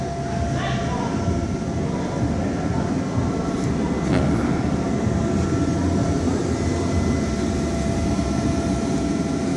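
A steady, loud blower fan drones continuously beside an inflatable outdoor cinema projection screen, a constant broadband rush with faint tonal hum and no letup throughout.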